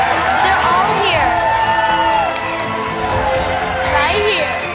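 A crowd of young cooks and their families cheering in a big kitchen, a loud sustained roar of shouts, whoops and excited children's voices filling the room.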